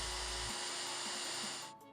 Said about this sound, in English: I eventually had to take my automatic center punch and drill bits and just drill the bolt out.